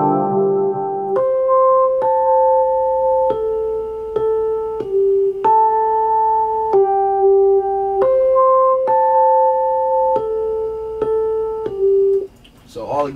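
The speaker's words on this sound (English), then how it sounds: "I layered it with another Rhodes piano on top of that, so it sounded like this." Layered Rhodes electric piano chords in a hip-hop beat, sustained chords changing every second or so in a slow steady progression, close and clear with no talking.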